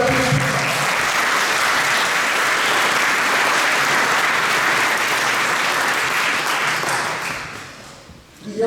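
An audience at a Lyon gathering honouring people who died homeless breaks into sustained, dense applause that holds steady for several seconds before fading out near the end.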